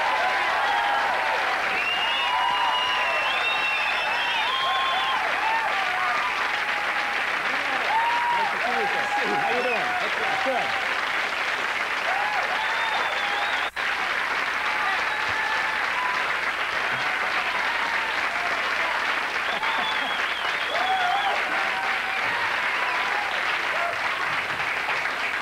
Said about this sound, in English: Please welcome Don Rickles.